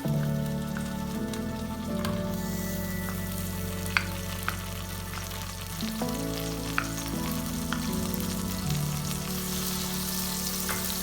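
Onion browning in 100 grams of melted butter in a pan, a steady close sizzle with a low background hum and occasional faint ticks of stirring.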